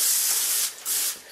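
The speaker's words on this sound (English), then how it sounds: "lightly spray this" A can of cooking oil spray hisses onto a foil-lined cookie sheet in two or three close, loud bursts with brief pauses between them, with no talking.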